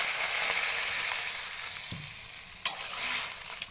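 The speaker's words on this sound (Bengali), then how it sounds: "তো এখন মরিচের গুঁড়ো দেওয়া হলো। আমাদের জলটা দিয়ে দিচ্ছি।" Frying egg curry seasoned with chili powder, with water poured into the hot pan, giving a steady close sizzle and faint stirring scrapes, a sharper splash near the end.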